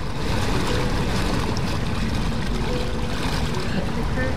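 An amphibious car floating and moving through water, a continuous dense churning wash of water and motor noise at steady loudness, with no voices.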